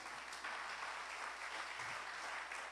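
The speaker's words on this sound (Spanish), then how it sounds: "¿Alguien le da un aplauso a Jesús?" A church congregation applauds steadily after a call during a sermon, a dense, even wash of many hands clapping that holds for the whole stretch without a break.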